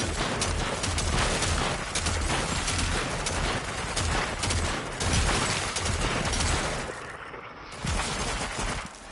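Video game gunfire with pistol and Tommy gun shots, a dense loud clatter of rapid firing that continues almost without a break, a brief dip near the end, no talking.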